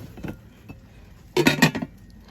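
Metal clanks and clinks as a cooking pot is handled, a few soft knocks followed by a louder rattling burst of metal against metal.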